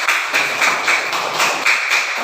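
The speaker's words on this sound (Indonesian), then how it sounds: "Ya, tepuk tangan bro." A classroom of students claps for a classmate, a brief burst of close, rhythmic hand claps pulsing in quick repeated waves with no speech.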